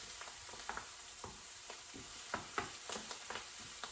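Vegetables sauté in a pan beside stuffed red snapper preparation, a soft steady sizzle with scattered scraping stirs and light utensil taps, fairly quiet.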